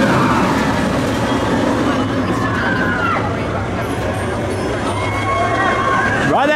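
Icon roller coaster trains at Blackpool Pleasure Beach run past slowly, a steady loud rumble and rail roar with a crowd murmuring and people talking throughout.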